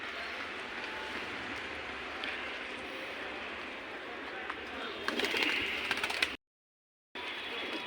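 Pigeons coo on the turret of a temple rooftop in the Old City of Jammu, a continuous soft murmur of calls over steady outdoor ambience, broken by a brief silence near the end.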